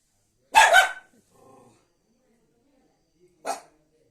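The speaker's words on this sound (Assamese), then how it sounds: "এয়া বাহঁতৰ কুকুৰজনী গুটি, তাইৰ নামটো গুটি।" A house dog barks up close, a loud double bark, then a faint low growl and one more short bark after a pause.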